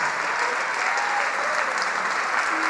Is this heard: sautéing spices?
no